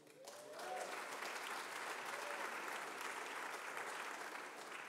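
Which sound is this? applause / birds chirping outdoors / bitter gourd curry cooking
applause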